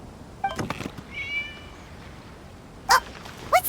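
Short cat meows in the video game Genshin Impact, a cluster of brief calls early on followed by two sharper meows near the end, fairly close and standing alone over a quiet background.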